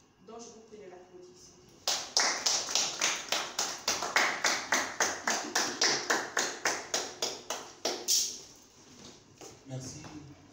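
An audience at a public speaking seminar gives rhythmic applause, with loud, even claps lasting about six seconds before fading, and speech can be heard before and after.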